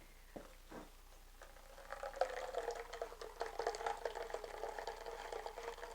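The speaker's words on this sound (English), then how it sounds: "I'm just going to strain it real quickly through my little strainer." Pecan nut milk pours through a small four-inch strainer into a bowl, a faint continuous trickle and splash of liquid after a couple of soft knocks at the start.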